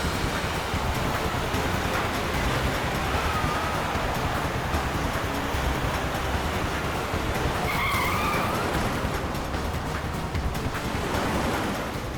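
A car is driven recklessly in a Hindi CID crime drama scene, its tires skidding amid a constant loud roar of engine and road noise, with brief tire squeals near the end.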